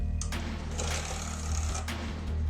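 A faulty Xbox 360 disc drive makes a steady mechanical whirring and grinding hum with a rattling buzz, continuous throughout at moderate volume.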